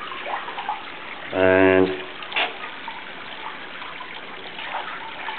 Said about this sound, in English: you get some really nice sounds, gurgling inside the tunnel